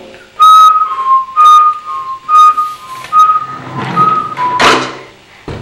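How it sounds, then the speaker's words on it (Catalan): A person whistles in short, clear bursts, about five or six tones in an uneven rhythm at close range. A sharp thunk or knock follows near the end. "A veure, torna a xiular aquí,"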